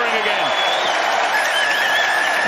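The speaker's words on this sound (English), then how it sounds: "And the crowd are off their feet again." A rugby stadium crowd roars and applauds after a Leinster try against Wasps, a dense sustained cheer under an excited commentator's voice.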